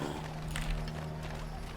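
Brief soft hoofbeats clop along under a low steady hum, as a horse moves at an easy pace in Assassin's Creed III.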